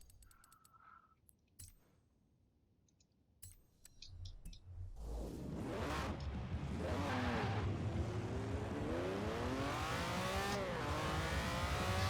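Lamborghini Countach engine in the Forza racing game, starting with a few faint clicks, then swelling into a loud, steady roar with rising and falling rev sweeps as the car accelerates through gears, alone without talk.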